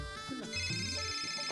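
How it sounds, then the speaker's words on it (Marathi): A phone ringtone plays in a Marathi TV serial scene, a short electronic melodic tone sequence with sustained notes, fairly clear and close, with little else around it. "फोनची रिंग"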